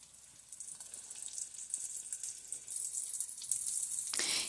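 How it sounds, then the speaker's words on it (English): Eckrich smoked sausage frying in a pan, a steady, quiet hiss and sizzle that slowly grows louder and brighter, close and alone without talk. "it's time to flip the sausage and let the other side cook"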